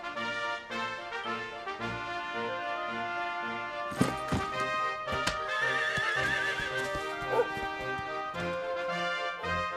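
In Dragon Quest XI, a horse whinnies loudly and clip-clops its hooves over game music, with a bright, close neigh in the middle of the passage.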